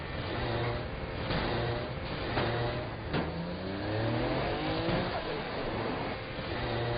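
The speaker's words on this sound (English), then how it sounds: "as you can see, driving is fast, fluid, and fun" A car in Saints Row The Third drives fast and power slides, its engine revving and surging steadily while tires scrub through the turns, loud and continuous with no talking.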